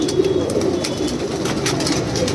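Punjabi and Malwai pigeons cooing at a pigeon seller's, soft repeated low coos from birds close by over a murmur of background noise.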